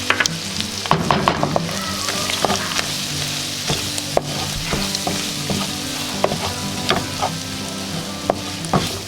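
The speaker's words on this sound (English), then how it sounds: "we're gonna let the flour cook for a minute or 2, just so that way we get rid of the raw flour taste" Flour cooks in rendered sausage fat for gravy, giving a loud, close, steady sizzle broken by frequent scraping knocks of a utensil stirring the pan.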